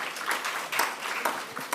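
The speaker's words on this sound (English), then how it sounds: "Another round of applause for him" At a partnership summit, an audience claps for Mr. Ngwane, a steady crowd applause with distinct sharper claps standing out, moderately loud and sustained.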